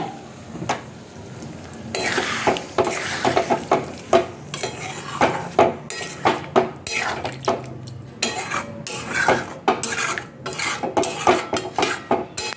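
Metal spoon scraping and clattering in a pan of Bengali potato curry, with sizzling as water goes in, repeated close stirring knocks in an irregular rhythm, loud and alone.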